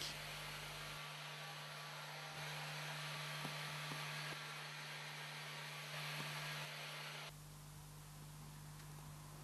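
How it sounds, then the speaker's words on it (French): A heat gun drying pigment-adhesion product on a leather repair, giving a steady, loud blowing roar with a constant hum that holds for most of the stretch and then drops to a softer hiss near the end. "Laissez sécher ou sécher au décapeur thermique."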